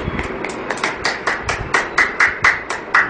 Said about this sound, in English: Everybody hand clap now.